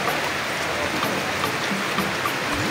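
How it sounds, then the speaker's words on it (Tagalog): Steady, even rain hiss fills the clip at an outdoor street market in Balibago, Angeles, with a few scattered drips standing out over the continuous wash. "Umuulan."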